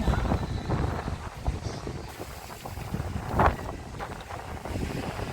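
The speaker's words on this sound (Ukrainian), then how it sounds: "такий сильний е, цей вітер шторм" Strong gusty storm wind roars and buffets the microphone on the Odesa seashore, with a louder blast midway; crashing waves and rushing water sit underneath.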